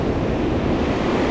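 Sea surf washes onto a beach where an angler casts lures for flounder, a loud, unbroken roar of breaking waves mixed with buffeting wind across the microphone.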